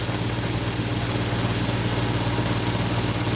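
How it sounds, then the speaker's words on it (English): A 240-grit wheel satin-polishing a knife blade gives a steady, loud, continuous motor whir with a broad hiss, unchanging throughout and with no talking. "I'm letting the 240 grit wheel satin polish out."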